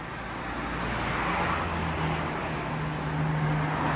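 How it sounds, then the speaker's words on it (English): Street traffic in Germany, a steady loud roar of cars rumbling past without a break, with a low engine hum coming and going beneath the broad wash of road noise. "It's very loud here because of the cars."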